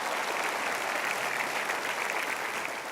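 Audience clapping for a wedding decorator on an Indonesian talk show: dense, even applause from many hands, steady and sustained without pause, fairly close.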